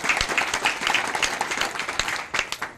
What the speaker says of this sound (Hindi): इसलिए अपनी ताली बजाएं जोरदार